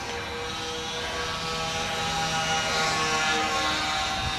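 Electric motors of a Guanli Catalina model seaplane drone steadily in flight, a sustained buzzing whine that swells slightly as the aircraft passes, heard alone without voices.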